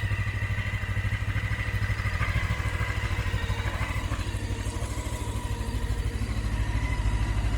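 Honda CB500S motorcycle idling, a steady low, even engine throb with a light mechanical clatter layered on top, close and constant throughout, with no talking.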